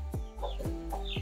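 Brahma hen and her small chicks clucking inside a cage, a few close, short clucks and peeps repeating in an uneven rhythm, with no talk.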